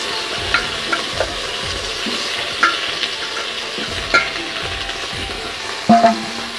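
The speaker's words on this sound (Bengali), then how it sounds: "এখন আলু আর ঢেঁড়সটা আমি দিয়ে দিচ্ছি।" Chopped potatoes and okra frying in a hot pan give a steady loud sizzle, with a handful of sharp spatula scrapes and clanks against the metal, the last one the loudest.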